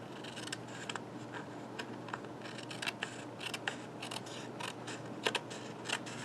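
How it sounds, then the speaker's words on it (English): Scissors snip steadily through stiff cardstock, a run of crisp, close cuts with small clicks between them, with no talking. "Basically just letting the scissors glide along the edge of the cardstock."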